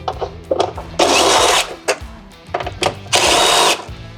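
A power tool with a 10mm socket removes airbox baffle fasteners on a C8 Corvette, giving two loud sustained whirring bursts amid short clicks and handling knocks, close by.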